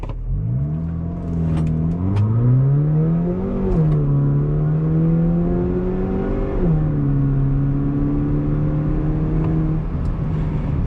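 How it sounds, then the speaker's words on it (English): A 2023 Haval H6 GT's 2-liter turbo four-cylinder pulls hard in race mode from inside the cabin, engine note rising steadily through the gears with distinct drops at each shift, loud and continuous. "let's see how the 2-liter turbo 4-cylinder performs in the race mode"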